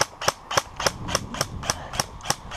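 Sharp airsoft gunshots crack out one after another in a steady rhythm, about ten shots in under three seconds, fairly close and with no talking.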